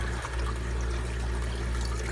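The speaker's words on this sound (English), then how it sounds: "how much water is flowing into that tank right now?" Water flows steadily into a fish tank in a fish-breeding room, a continuous trickling pour close by.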